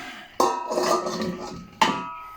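A large cooking pot handled in a home kitchen while rendering lard, two sharp metallic clanks with ringing decay, the first followed by rattling and shifting, the second a single struck clang.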